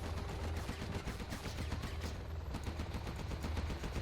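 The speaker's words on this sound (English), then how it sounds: "Gatling's already spun up, so that did a lot of damage there to that Helix" Rapid gunfire from a spun-up Gatling gun in Command & Conquer: Zero Hour, a dense unbroken stream of shots firing loudly and continuously through the whole stretch, with battle noise mixed in.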